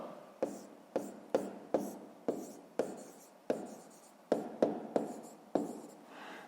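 Pen strokes scratch steadily across paper as a maths answer is written out, a close run of about a dozen quick, crisp taps and scrapes in an uneven rhythm.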